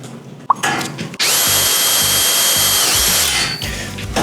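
A competitor's cordless impact driver sets a screw with a loud, high-pitched whine, pounded by rapid rhythmic impact hammering for about two seconds. It is preceded by brief clicks and handling noise and ends as the motor winds down.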